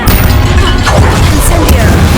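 Incendio fire spell from Hogwarts Legacy bursts out as a dense, roaring whoosh of flame with booming impacts, loud and continuous through the whole moment.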